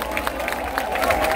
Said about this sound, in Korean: 자기 자신과 옆에 있는 러너분들을 위해서 다 함께 박수 한번!